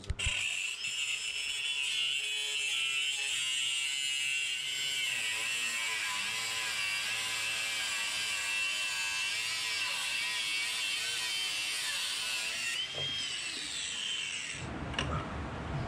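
A power tool with its guard off cuts through a bolt, giving a loud, steady high-pitched whir and grind that runs almost unbroken before cutting out near the end.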